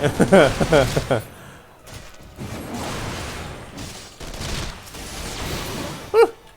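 Gunfire rattles in a session of the online game Final Fantasy XIV, with a quick burst of shots near the start, then scattered thuds and a sharp crack near the end, all under a player's chatter.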